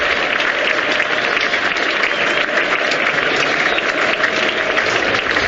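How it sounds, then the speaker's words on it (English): A cricket crowd at a 2005 England v Australia Test match applauds as the batsmen leave the field, producing a dense, sustained roar of clapping heard at a distance and continuous throughout. "here's the applause for Andrew Flintoff, who leads the 2 batsmen off the field"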